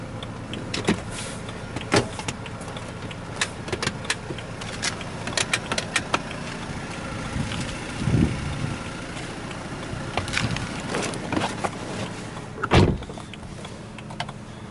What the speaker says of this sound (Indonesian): Ini dia suara mesinnya.